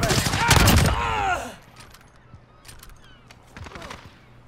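Rapid gunfire bursts from a military shooter video game, loud and dense in the first second and a half, then sporadic distant shots and rattles under quiet background noise.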